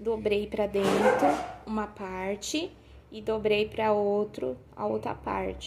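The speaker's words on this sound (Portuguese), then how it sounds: "desculpa o cachorro" A dog barks and yips repeatedly in a room, mixed in under someone talking continuously while sewing a dish towel holder.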